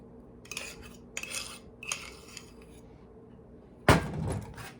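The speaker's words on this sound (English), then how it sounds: "And I'm just going with a fork and just mix that together till it's crumbly" A fork scrapes and clinks against a bowl while mixing butter into a crumb topping for zucchini crumb cake, several soft bursts of scraping followed by one sharper clatter near the end.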